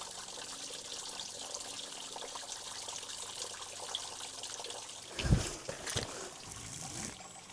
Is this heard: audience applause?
no